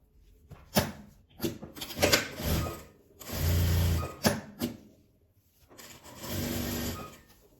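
A sewing machine stitches fabric scraps for a phone holder in several short bursts, then two longer steady runs of close, rapid mechanical whirring separated by brief pauses.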